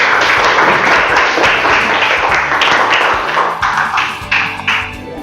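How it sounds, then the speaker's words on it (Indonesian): Students in an Indonesian classroom applaud a group called up to present, a dense, steady burst of many hands clapping at close range that thins out toward the end. "Boleh tepuk tangan, Nak?"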